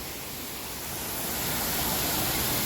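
Steady, full-band rushing of a waterfall near Munnar, running low after the monsoon, fills the whole stretch as a continuous, fairly loud roar that swells slightly partway through, with no voices.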